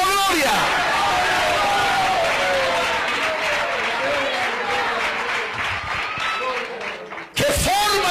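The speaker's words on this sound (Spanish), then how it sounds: "Un aplauso a Cristo en esta noche." A congregation at an evangelical sermon breaks into sustained applause for Christ, a dense, loud wash of clapping and crowd noise that fades near the end before a short sound cuts in.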